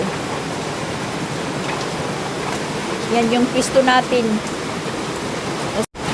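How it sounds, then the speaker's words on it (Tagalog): Steady, straight-falling heavy rain with no wind hisses continuously, with a person speaking briefly over it partway through. "Straight lang naman po yung ulan."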